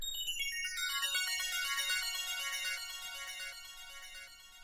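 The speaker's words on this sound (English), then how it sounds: "This is a really interesting way to get a good delay, and ping pong, so it'll go left and right." A descending run of bright synth notes with a ping pong delay on dotted quarter notes, echoes repeating in a cascading pattern and gradually fading, no voices.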